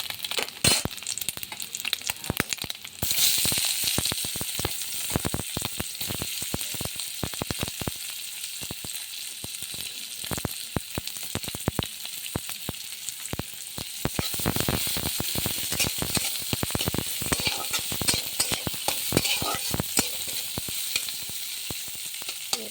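Onions fry in a pan with salt, giving a continuous close sizzle broken by dense rapid scraping and stirring clicks that carry on throughout, with no voices.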